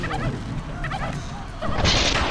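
Several chickens cluck and squawk in short bursts amid How to Survive 2 game noise, followed by a brief louder crash.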